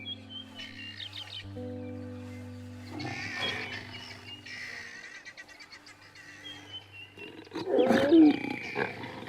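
Lions in the wild, from a pride with a lioness and young cubs, give a loud, rough roaring call near the end, over a steady low background hum, with faint bird chirps scattered throughout.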